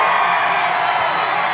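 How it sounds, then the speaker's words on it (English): Large live crowd at a political event roaring and cheering continuously, a dense, loud wash of voices with no breaks. "there's such a good crowd."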